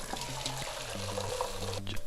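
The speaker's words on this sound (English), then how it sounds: "Right, let's get our pasta on. So boiling hot water" Boiling hot water is poured into a pot for penne pasta, making a steady pouring and trickling rush that runs throughout, fairly close, with faint low tones underneath.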